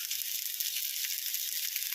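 Chopped tomatoes with salt and turmeric fry in a pan for a fish curry, giving a steady, soft, continuous sizzling hiss with no talking.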